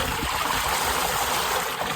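Steady rushing water pours continuously from a small motor pump outlet, a broad close splashing flow with gurgling, loud and unbroken throughout.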